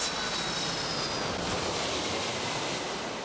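An airplane taking off from runway 27 left gives a steady, loud broadband engine roar with a faint high turbine whine early on, continuous throughout with no talking.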